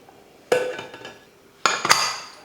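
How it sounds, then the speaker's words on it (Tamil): Two sharp metallic clanks ring out about a second apart as a pressure cooker lid is set and pressed down, close and otherwise quiet. "குக்கர் மூடி போட்டுடலாம்"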